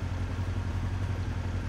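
Kart engines rev at the start of a race in Mario Kart 8 Deluxe, a steady loud low engine drone with a pulsing idle-like rumble, and no talking.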